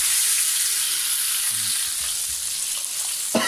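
Fish fries in hot oil in a pan, a continuous close sizzle and bubbling hiss with faint scraping and a small clatter at the end.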